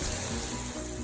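Chicken and vegetables sauté in a pan with their own juices, a steady, dense sizzle of frying heard close up without any talk.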